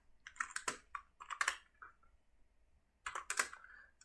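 Quick bursts of clicky keystrokes on a computer keyboard as Kotlin code is typed, two flurries separated by a brief pause, close and crisp.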